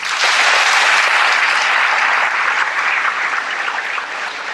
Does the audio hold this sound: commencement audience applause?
yes